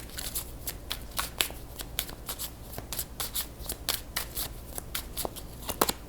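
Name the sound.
shuffling tarot cards to draw one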